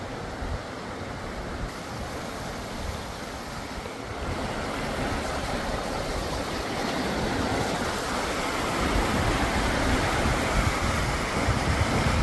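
Steady, dense roar of rushing water at the Cachoeira do Arialdo waterfall in Olaria, Minas Gerais, Brazil, broadband and constant, swelling slightly louder toward the end, with no voices.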